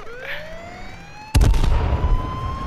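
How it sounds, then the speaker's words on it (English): A police Crown Victoria siren in the battle royale game H1Z1 starts with rising electronic tones, then gives way to a sudden loud burst and rumble partway through. "Yo, let's turn the sirens on."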